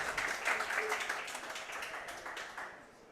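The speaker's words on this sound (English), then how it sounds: "Let's give a big hand, everybody" Studio audience applause on a racing talk show, a dense wash of many hands clapping that gradually tapers and fades out near the end; fairly quiet, with some voices faintly mixed in.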